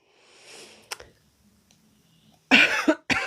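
A person coughs a few times in short, sharp bursts near the end, after a quiet stretch with a faint rustle and a click.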